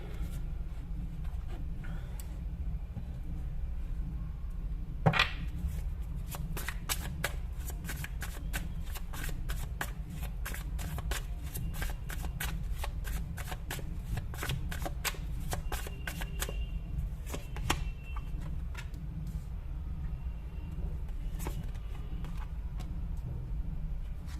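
Tarot cards being shuffled close by, a steady run of quick papery riffles and flicks lasting over twenty seconds against a low background hum, with no talking.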